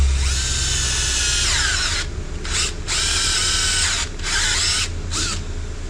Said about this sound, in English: So he does not have a hole, but he's got the pilot hole, so I'm gonna drill that sucker out